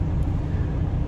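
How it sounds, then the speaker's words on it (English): A pickup truck's engine idles close by next door, a steady, fairly loud low rumble that holds evenly throughout with no other sounds on top. "Another truck next door is running. It's my truck. It's kind of loud."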